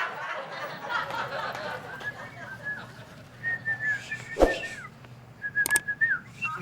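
A person whistles a few short rising and gliding notes in bursts over a murmur of background chatter and noise.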